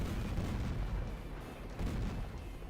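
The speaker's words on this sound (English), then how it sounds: "the bazookas are kind of like not good for most operations, I would say, because they're kind of like hard to aim" Bazooka fire in a From Software video game comes as a dense, rumbling barrage of booms and blasts, loud and continuous throughout, with no voices.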